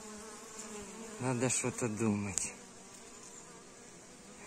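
Bees swarming around a cardboard swarm trap in a forest give a close, loud buzz with harmonic layers for about a second, fading out after a brief click, and someone speaks briefly over it.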